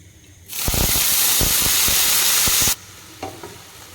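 Soaked rice is tipped into hot ghee with fried cashews in a pan for cumin rice, and it roasts with a loud sudden sizzle and hiss that lasts about two seconds, broken by light stirring scrapes, before it quiets down.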